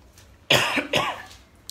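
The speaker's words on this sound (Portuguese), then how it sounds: "eu estou aqui com uma tosse que está me acompanhando já há alguns dias" Two close, harsh coughs in quick succession from a man who has had a lingering cough for several days, each a sharp burst of air in an otherwise quiet room.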